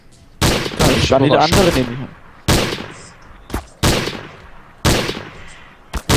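Gunfire in Trouble in Terrorist Town, a handful of loud, sharp shots spaced irregularly, some single and some doubled, with someone speaking briefly over the first burst.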